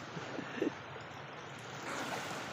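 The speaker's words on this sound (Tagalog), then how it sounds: "Yan ang alon." Steady broadband wash of open-sea waves during a fishing trip, with wind noise, continuous and moderately loud, swelling slightly near the end; no talking.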